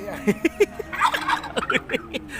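A turkey gobbles at a cattle and buffalo market in Wang Hin, Sisaket, with one loud, close, rapid warbling burst of throaty notes followed by a second quicker rattling run.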